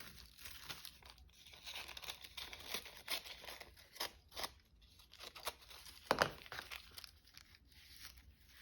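Paper being cut with scissors during art journaling, irregular crinkly snips and rustles up close and soft, with a sharper crisp cut partway through.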